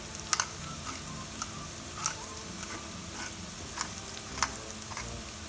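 Brussels sprouts sauté in a pan with chili flakes and pepper, giving a soft, steady sizzle broken by scattered sharp pops and ticks every half second or so.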